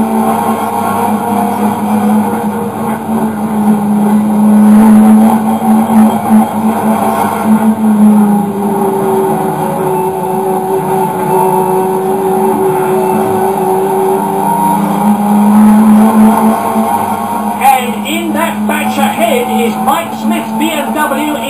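1980s British Touring Car Championship race cars racing, a steady engine drone with rising and falling pitch as cars pass, under a commentator talking throughout.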